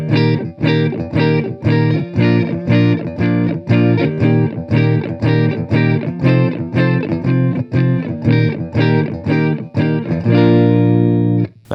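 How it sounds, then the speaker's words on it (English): Strummed electric guitar bar chords in a jazz blues progression with a distorted, crunchy tone, played in a steady rhythm, ending on a ringing sustained chord. "if you were playing this with bar chords, it would sound something like this"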